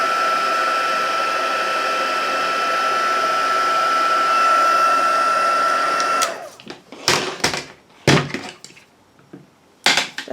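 A heat tool blows a steady, loud whirring roar while melting gold embossing powder on a birthday card, running alone for about six seconds before cutting off, followed by a few sharp handling clicks and taps.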